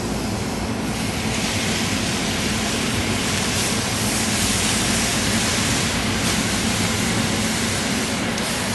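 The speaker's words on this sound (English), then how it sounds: "we go ahead and hit the pan with a little bit of white wine" White wine hits a hot pan of toasted risotto rice, giving a loud, steady, unbroken sizzling hiss that fills the whole stretch with no voices.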